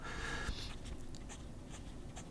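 A Hongdian pocket fountain pen scratches softly across paper in short, quiet strokes, faint and close with a low background hum.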